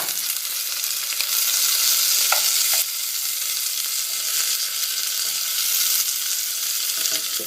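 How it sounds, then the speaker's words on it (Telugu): Ginger-garlic paste fries in hot oil as the tempering for a fish curry, producing a loud, constant hissing sizzle with a few faint stirring taps, no voices. "కొంచెం అంతా అల్లం, ఎల్లిపాయ, దీన్ని నూనెలో తాలింపులో వేయాలి."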